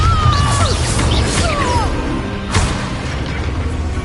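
The Bombarda spell goes off in a Harry Potter video game as a booming explosion with crashing debris. Whooshing game effects sweep through it, and a second hit lands near the middle of the clip.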